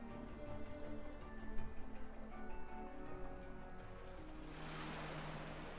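Sewer water in the video game Cris Tales flows and rushes in a steady wash, with a faint ticking and a louder surge near the end, and no voices.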